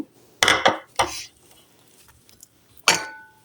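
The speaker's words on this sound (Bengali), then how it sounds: "আমি সবগুলি উপকরণ এখন ভালো করে এটা মিশিয়ে নিব" Utensils clink and scrape against a bowl while cabbage pakora batter ingredients are mixed, in three short bursts and one more clatter near the end, with quiet pauses between them.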